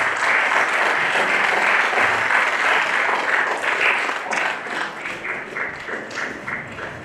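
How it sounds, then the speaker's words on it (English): Guests at a university MOU signing ceremony give a big round of applause as a director is invited onto the dais, loud, close clapping that holds steady and then begins to thin and turn patchy toward the end. "Big round of applause, please."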